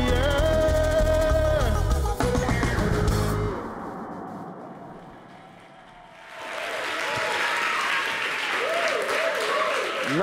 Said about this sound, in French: Mr. Shadow Chris, merci de l'applaudir.